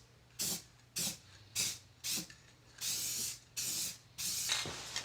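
A spray paint can sprays a Sears Craftsman 12-drawer top tool box in a series of close, sharp hissing bursts, about eight in a row with short pauses between them, and the last bursts run longer.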